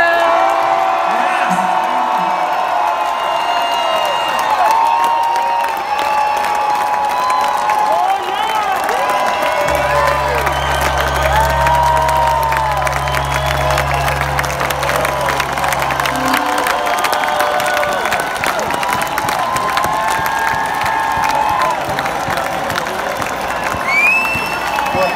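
A concert crowd at an outdoor rock festival cheers, whoops and claps continuously, a broad roar of many voices with scattered shouts, while a low hum sits underneath partway through.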